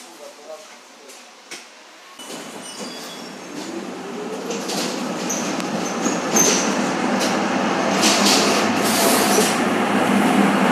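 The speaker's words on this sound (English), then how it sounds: "here is the best tram in Poznan. The 1950s tram." A vintage 1950s tram in Poznań rumbles and accelerates along rails, its steady low roar building over several seconds with faint squeals and rattles, close by.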